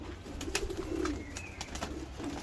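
A pigeon, one of a prized breed of fancy red-eyed birds, gives a soft, low cooing close by over a steady background hum, with a few faint clicks and rustles.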